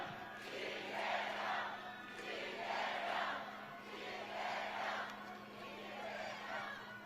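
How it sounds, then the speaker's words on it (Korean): Political campaign rally crowd in Namyangju, Gyeonggi Province, cheering and chanting in rhythmic swelling waves as the candidate is welcomed, loud and continuous, with a steady electrical hum underneath. "뜨거운 박수 함성으로 맞아주십시오"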